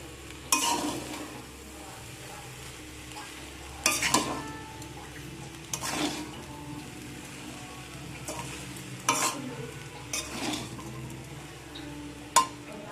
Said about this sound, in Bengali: এখন যে সবজিগুলো আমি ভেজে রেখেছিলাম সেই সবজিগুলো এর মধ্যে দিয়ে দেবো দিয়ে সবটা একসাথে আবার মিশিয়ে নেব